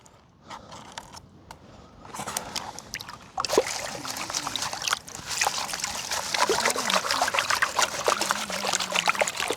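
Water sloshes and trickles in a gold pan shaken while prospecting outdoors, quiet at first, then louder with rhythmic swishes, splashes and faint rattling of gravel, with a voice talking over it.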